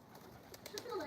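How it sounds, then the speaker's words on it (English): Birds call outdoors on a summer morning during a full-body stretching session, with soft cooing notes from pigeons or doves and brief chirps rising over steady background ambience. "Well, the birds are having a time of their life this morning."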